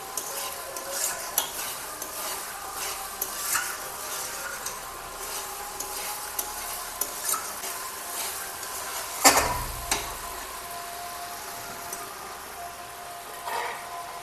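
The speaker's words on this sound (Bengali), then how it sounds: "যত ভাজবো মাংসটাকে তত ভালো হবে মশলার সঙ্গে।" Chicken pieces frying with spices for a North Indian style curry, a soft continuous sizzle with repeated scraping stirs and an occasional louder clank of the utensil against the pan.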